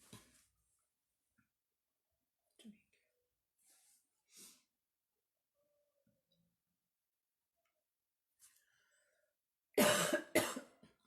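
During a spoken lecture, a speaker coughs: a burst of several harsh, close coughs near the end, after a long quiet stretch with only faint breaths and small mouth noises.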